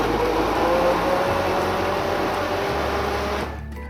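A blender grinds tomatoes into a homemade puree, giving a loud, steady motor whir that runs unbroken for about three and a half seconds, then cuts off into quiet.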